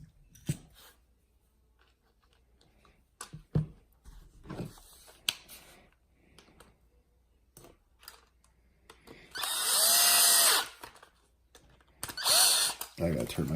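A power drill whirs in two short bursts on a Losi 8ight RTR RC buggy during a 4-gear differential conversion, loud and close, after quiet clicks and handling noises on the bench.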